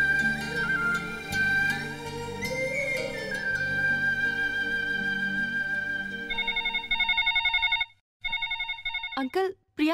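A phone's electronic ringtone in a dubbed romantic film scene comes in with repeated tonal pulses near the end, after a passage of background music.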